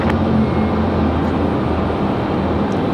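An airliner arrives at Raleigh-Durham International Airport, heard as a loud, steady broadband engine roar with a low rumble that holds throughout, with no voices.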